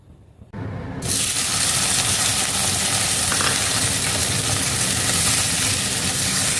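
Chopped onions hit about one and a half spoons of hot oil in a kadai, cooking for a Bengali creamy soya dish. After a quiet second a loud, steady sizzle bursts in and holds without a break; no voices.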